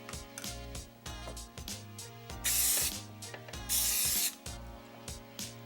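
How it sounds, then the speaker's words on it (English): Baking spray hissing onto a baking pan in a home kitchen in Farmington, Minnesota, heard as two loud bursts of about a second each, standing out over soft background clatter. "Next, I'm going to coat my pan with some baking spray."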